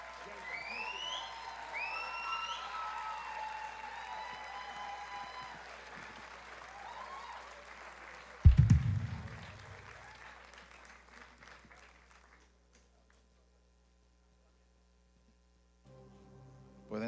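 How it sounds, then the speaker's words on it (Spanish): A church congregation breaks into applause as a voice carries over it, followed by a loud thump. The clapping then fades and leaves near silence before faint sounds return. "Vamos a darle un aplauso al Señor por la vida de ellos."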